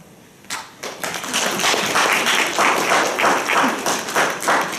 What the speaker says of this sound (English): Applause just for walking and being me.